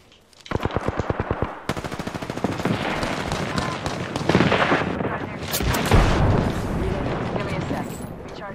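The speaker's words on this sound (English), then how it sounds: "my artillery incoming" A video game battle erupts with rapid machine-gun bursts followed by heavy, booming artillery fire. The shots are loud and close, and players talk over the steady barrage.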